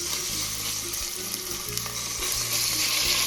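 Salted beef short ribs searing in hot olive oil in a saucepan, giving a steady, close sizzle with bubbling crackle throughout a few seconds, no voices.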